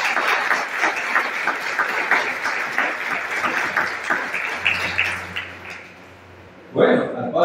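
Congregation applause for a priest at a Mass blessing a new church, sustained dense clapping that thins out, then a pause before voices return near the end.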